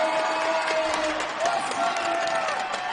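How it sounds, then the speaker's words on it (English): After a made three-pointer in a women's university basketball game against McMaster, the arena crowd erupts in loud sustained cheering and clapping while a commentator talks over the roar. "this crowd is going wild"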